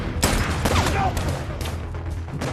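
Rifle gunfire in a forest film scene about hunting cartel members, sharp loud reports and rumbling echoes filling the clip over a low rumble.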